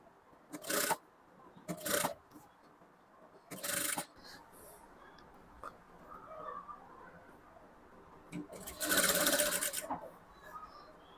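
A sewing machine runs in short bursts while stitching a halterneck blouse along the shoulder and front panel, several brief whirring runs separated by quiet pauses, close but fairly soft.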